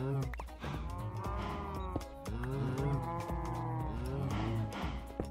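Cows in a Minecraft 1.14.4 survival world moo repeatedly, several long drawn-out calls overlapping one another, fairly loud and close, with no talking.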